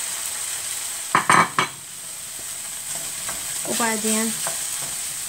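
Zucchini noodles stirred with sauce in a frying pan, giving a few short scraping stirs over a steady sizzle, then softer stirring; a voice speaks briefly.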